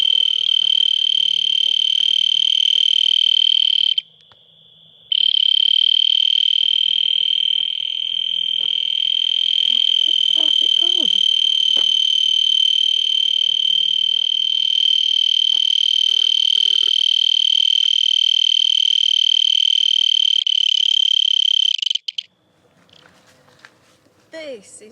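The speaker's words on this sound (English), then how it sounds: "Just gonna let you know how loud these field crickets are" Field crickets on a farm in the Algarve, Portugal, give a loud, piercing, continuous high trill that holds steady for about twenty seconds with one brief gap, then breaks off into quiet background sounds.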